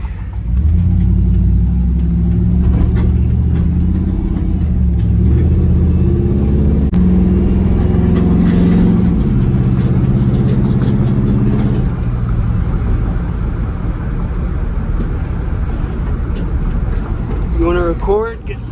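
The Hemi V8 engine of a 1998 Ram 1500 van rumbles and revs loudly and close by, its deep drone rising and settling while voices talk over it.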